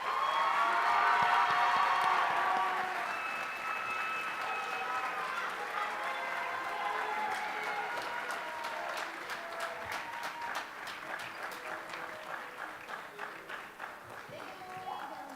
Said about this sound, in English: let me give a big round of applause